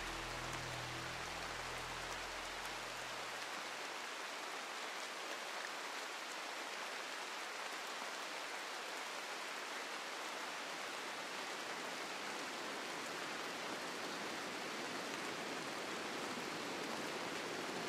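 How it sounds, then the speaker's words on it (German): Steady rain falling in the video game RimWorld, a dense even hiss that holds at constant loudness throughout, with no talk over it. "Es regnet."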